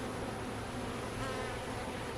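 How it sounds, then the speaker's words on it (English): Saska honey bees buzz steadily at an open hive, a dense, continuous drone of many insects up close with no voices over it. "these are my Sasky bees"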